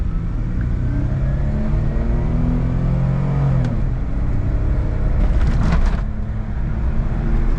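A kei car fitted with a strut bar accelerates hard, its small engine droning loudly and climbing in pitch through the revs, with a brief whooshing burst near the end, heard from inside the cabin.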